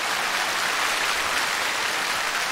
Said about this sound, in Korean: 박수 쳐요. 박수.